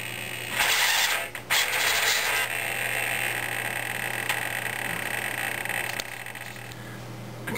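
RC glider servos drive the flaps into landing crow with a continuous high mechanical whir and buzz, steady and close, with a brief dip early on before the hum carries on.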